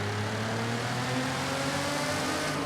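A car engine in the racing game Forza Horizon 5 hums steadily at a mid-range rev, its layered harmonics droning evenly and loudly throughout with no talking.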